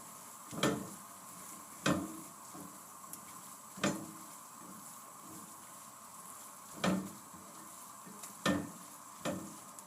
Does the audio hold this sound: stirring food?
yes